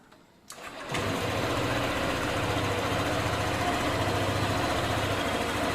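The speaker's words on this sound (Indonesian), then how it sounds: "kontak bisa diputar dan motor bisa hidup" A Honda ADV motorcycle with a smart-key ignition starts with a quick crank after a short silence, then settles into a steady, close idle that runs on evenly.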